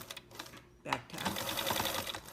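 Sewing machine back tacking on a drawstring bag casing, a brief stitch burst, a pause, then a fast steady mechanical whirr of stitching, close and moderately loud.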